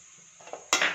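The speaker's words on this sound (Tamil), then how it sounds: "தண்ணி விட்டு நல்லா பிரட்டிட்டு சிம்மில் வச்சிடலாம்." Water is poured into a pan of leftover chapati and vegetables for veg kothu chapati, then stirred, with soft utensil scrapes building to a louder burst of clattering and splashing near the end, no talk.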